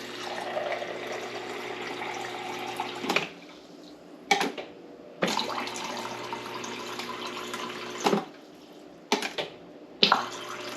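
Tap water runs steadily from a refrigerator supply line after it is turned back on, coming in several bursts of a few seconds each, separated by short silences, with no talking.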